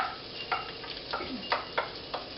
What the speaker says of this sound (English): I can already hear the sizzle